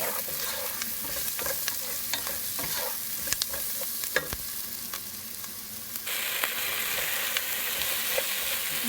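Okra frying in a pot with turmeric, red chili powder and coriander powder, a continuous loud sizzle with scattered scraping stirs throughout.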